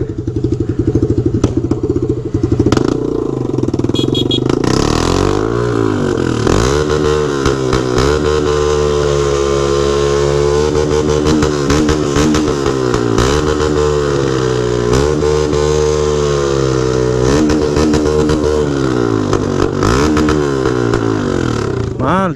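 A stripped-down Honda XRE motorcycle at a wheelie stunt event revs loudly and close, its engine pitch rising and falling in repeated swells over about twenty seconds, with voices talking underneath.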